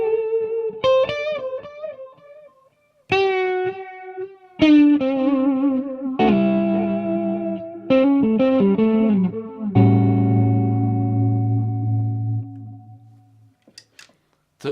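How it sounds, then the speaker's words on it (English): Electric guitar played through a Mooer Ocean Machine pedal on its liquid modulated delay setting: several struck chords and single notes ring out with wavering, warbling repeats and long sustained tails, each phrase fading before the next, with no talking. "So that's very much a modulated delay type thing."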